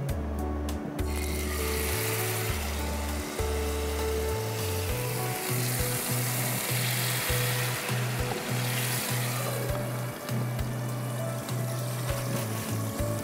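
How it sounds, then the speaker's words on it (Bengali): Marinated malai kebabs fry in hot ghee with a loud, continuous close sizzle and bubbling hiss, steady throughout, with a low hum beneath and no talking. "আমার ঘিটা গরম হয়ে গেছে, এখন আমি ভাজতে শুরু করে দিই"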